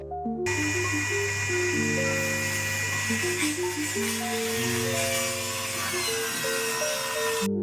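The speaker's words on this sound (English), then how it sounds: "I went ahead and did the cutout, the plywood cutout for the van" A power saw cuts plywood for a van subfloor, a loud close motor whine with shifting pitch that starts abruptly and runs steadily to the end.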